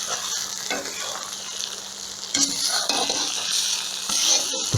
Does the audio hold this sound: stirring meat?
yes